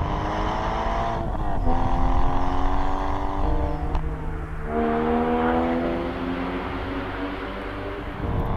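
A 2008 Porsche Cayman S with a manual gearbox heard from inside, the engine droning loudly and steadily with a gear change partway through, then pulling again at a rising pitch.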